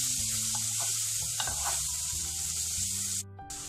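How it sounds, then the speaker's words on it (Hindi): Chopped onions sizzle and fry in hot butter and oil in a pan, a steady close hiss with occasional stirring scrapes, no talking. "ऑनियन को मैं थोड़ा देर फ्राई कर लूँगी"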